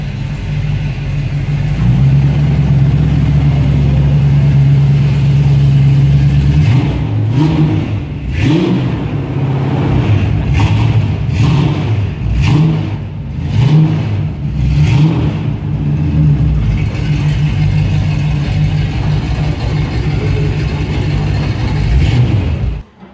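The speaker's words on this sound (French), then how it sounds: "Un petit bruit de V8 qui attire mon attention." A V8 car engine at a classic car show, idling with a steady low rumble before a series of sharp throttle blips and revs, loud and close, then settling back to idle.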